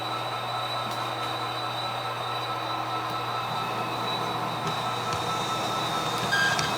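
A model train runs along its track moving hopper cars, giving a steady, close rolling rumble with a faint whine and occasional light clicks of wheels over rail joints.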